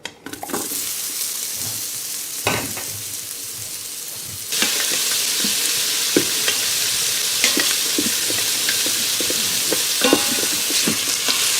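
Sliced onion, chunks of ginger and whole garlic cloves sauté for chicken wings, making a steady close sizzle with stirring scrapes that grows louder and fuller partway through.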